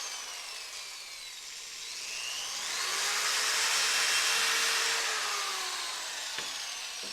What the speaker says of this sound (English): And you drill a hole.